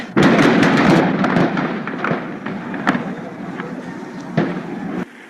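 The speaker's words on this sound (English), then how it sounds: "all of a sudden I heard the shooting" Gunshots fired by the National Guard at Vietnam War protesters, a crackling series of sharp reports, several in quick succession early on, then scattered single shots over a noisy crowd backdrop.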